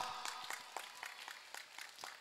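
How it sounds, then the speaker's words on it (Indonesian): A small audience at a public religious gathering claps faintly and sparsely, individual claps spaced out in a loose rhythm for about two seconds. "Tepuk tangan untuk kita semua."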